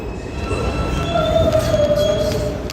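A New York City subway C train, a newer R160 or R188 car, rolls along with a low rumbling hum while a thin, steady wheel squeal rises and holds through the middle, fairly close and alone.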